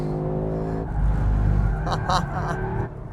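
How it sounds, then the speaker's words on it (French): Audi RS3 or Mercedes A45 AMG engine revving hard and climbing quickly in a driven car, loud and continuous with a brief bump at the limiter, with talk over part of it. "ça monte tellement vite, je tape souvent dans le limiteur"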